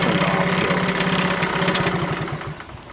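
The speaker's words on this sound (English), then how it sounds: "engine's running" A Honda CT70 motorcycle engine idles close by with a steady, rapid low putter that fades slightly toward the end.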